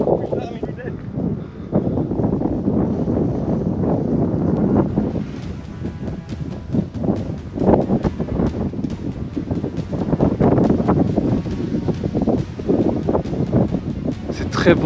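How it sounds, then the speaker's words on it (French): Strong frontal wind gusts during a violent supercell thunderstorm in the Beaujolais, roaring steadily and buffeting the microphone while people talk over it throughout. "c'est juste qu'il y a des rafales frontales"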